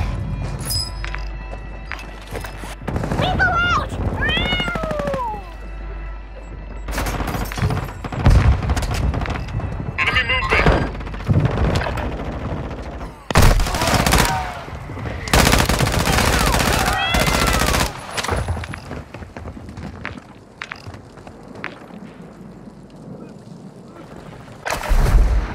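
Heavy gunfire in Call of Duty Warzone: long stretches of machine-gun bursts and booming shots, loud and close, with short pauses between volleys and faint voices now and then.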